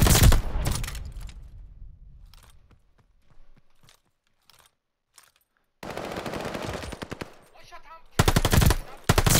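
Automatic gunfire in Call of Duty: Vanguard during a multiplayer bomb-objective match: loud, close rapid bursts open the clip, followed by a quiet stretch of scattered clicks and steps, then more sustained firing and a final heavy burst.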